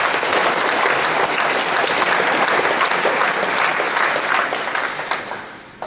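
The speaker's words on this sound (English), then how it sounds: "a round of applause for Sean Colebrook." An audience at a track and field awards ceremony claps steadily and densely for several seconds. The applause is loud and sustained, then thins slightly and tapers off at the end.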